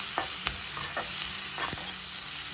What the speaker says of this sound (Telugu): ఉల్లిపాయని ఇప్పుడు వేగనివ్వాలి.